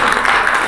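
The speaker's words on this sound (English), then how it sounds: "I think the panelists deserve a very huge applause." An audience applauds panelists at a conference on cyber standards and encryption for space, dense clapping heard close and at a steady level through the short clip.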